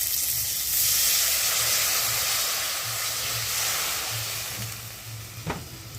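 Water poured into a pan of frying green mango pieces with a little turmeric for chutney sets off a loud, steady sizzle and hiss that runs close and continuous throughout, with no talk.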